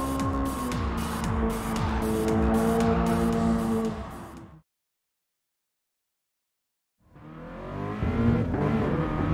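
A Toyota GR86 on a time-attack lap in Gran Turismo Sport, its engine droning loudly through rising and falling revs, cutting to silence for a few seconds and then roaring back.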